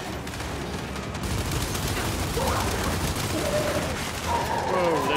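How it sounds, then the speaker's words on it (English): Heavy turret gunfire rattles without pause in the video game Gears 5, a loud dense barrage of shots and impacts with voices shouting underneath. "We're pinned down! We can't deal with those turrets!"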